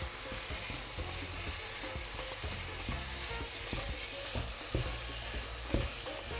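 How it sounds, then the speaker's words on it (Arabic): Minced meat with thyme and salt fries in a pan for lasagna, a constant close sizzle broken by rhythmic scraping strokes of a spoon stirring the meat. "يلزمني نحرك باش اللحم نتاعي ما يجمدش"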